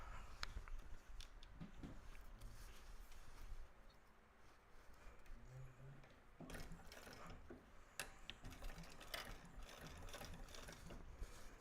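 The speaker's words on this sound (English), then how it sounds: "And you're going to top stitch on the band." Sewing machine top stitching along the band of a fabric bag, a steady mechanical whirring and ticking that runs continuously, close and moderately loud, with brief pauses and short bursts near the end.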